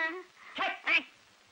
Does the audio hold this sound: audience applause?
no